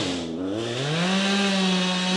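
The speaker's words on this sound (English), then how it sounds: "he's going to put that chainsaw to work on some branches and limbs" A tree-service chainsaw cuts tree branches and limbs, its engine whining loud and close, the pitch dipping then rising as it bites into the wood, with no talk.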